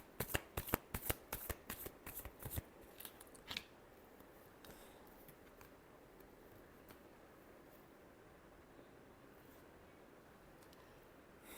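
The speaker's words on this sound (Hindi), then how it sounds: "Last shuffle." Tarot cards shuffled by hand in a quick burst of crisp riffling flicks over the first few seconds, then a soft, low hiss of handling with no talk.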